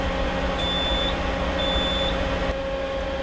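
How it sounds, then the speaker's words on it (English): Two thin, high electronic beeps sound about a second apart over a steady loud machine hum from an A/C charging machine, signaling a completed refrigerant charge. "It'll beep to tell us that we've completed the charge"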